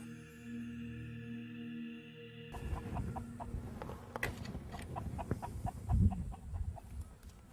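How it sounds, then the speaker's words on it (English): Chickens cluck in short, scattered calls over a faint outdoor background, preceded by a brief steady hum, with moderate loudness and an irregular rhythm. "The chicken."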